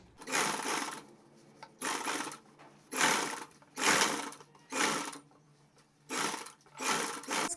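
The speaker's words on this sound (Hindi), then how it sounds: "अब एक सिलाई इस मार्जिन के ऊपर लगानी होती है।" A sewing machine runs a line of stitching over the seam margin of a princess-cut blouse, in about six short separate bursts of steady whirring with brief quiet pauses between them.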